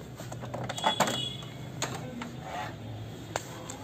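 An Epson L380 printer with a blinking red light makes a strange mechanical noise from inside, a series of clicks and whirring grinds at close range.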